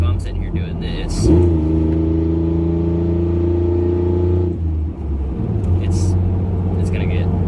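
A pickup truck engine revs hard nearby, climbing and holding a loud roar for about three seconds before dropping back to a rumbling idle, with a voice heard around it.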